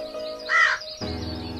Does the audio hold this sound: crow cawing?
yes